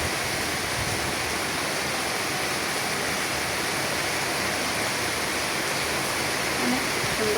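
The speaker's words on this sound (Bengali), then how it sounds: "বৃষ্টির শব্দ শুনতে অনেক ভালো লাগে।" Heavy rain pours outside a kitchen where cooking is under way, a constant loud wash of falling water with no pauses and only a faint hint of anything else beneath it.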